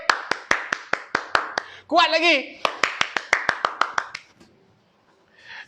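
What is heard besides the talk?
hands clapping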